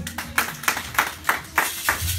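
A church congregation claps in praise of the Lord Jesus Christ, a steady rhythmic beat of sharp, close claps about three to four per second, with no voices over it.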